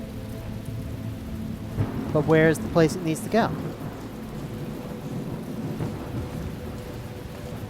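Steady rain hiss with a low rumble of thunder in the video game The Talos Principle, running throughout at moderate level while someone talks briefly over it.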